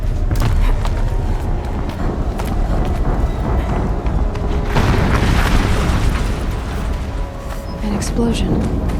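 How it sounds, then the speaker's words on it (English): A heavy explosion in Horizon Zero Dawn rolls out as a loud, sustained low rumble. Debris crackles on top, with a renewed surge of roaring noise midway through. "An explosion."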